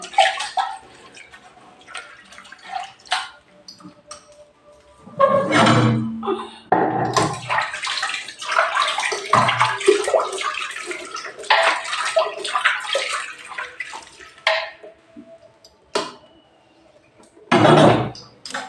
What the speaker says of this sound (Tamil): கிரைண்டர் கழுவுறேன். கிரைண்டர் கழுவிட்டு போடணும்.